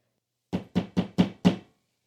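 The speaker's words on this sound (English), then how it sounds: "Banging loud enough to wake the dead, but not loud enough to wake the rest of the family." Five heavy, evenly spaced knocks bang on a door at night, loud and close, with nothing else heard.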